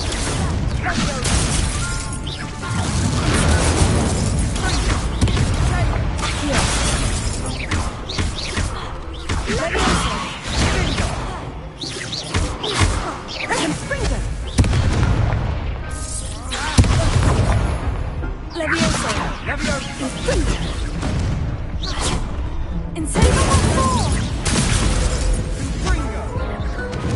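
Spell blasts and crashing impacts in the Hogwarts Legacy video game, dense and loud throughout with continuous bursts and booms, while a player shouts spell names over them.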